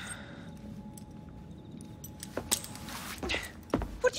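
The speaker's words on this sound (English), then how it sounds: "Now hand over your keys." Keys jingle and clatter as they are handed over in Assassin's Creed Syndicate, a few bright metallic rattles in the second half following a quieter stretch of low background ambience.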